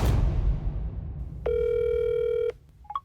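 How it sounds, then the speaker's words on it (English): A telephone rings once in a single steady electronic tone lasting about a second, preceded by a fading noisy rush and followed by a couple of faint short clicks or beeps. "I got the chance to give Cecil a phone call"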